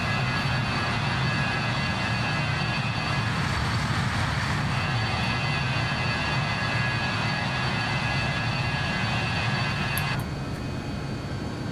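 Jet engines of a Just Flight RJ100 airliner in Microsoft Flight Simulator 2020, a steady broadband roar with a high whine, continuous and fairly loud, easing off slightly near the end.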